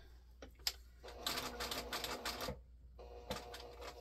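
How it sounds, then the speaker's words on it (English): A sewing machine stitches a quilt-as-you-go pumpkin potholder, a quiet close rapid mechanical whir in two bursts separated by a brief pause. "set your presser foot back down and start stitching again"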